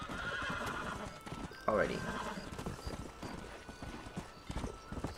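Horse hooves clip-clop in Red Dead Redemption near the town of Armadillo, a steady stream of hoof beats with a horse whinny and someone speaking briefly over it.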